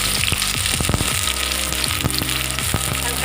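Finely chopped onions frying in a pan with bay leaves, a steady close sizzle with occasional crackles and pops, no voices.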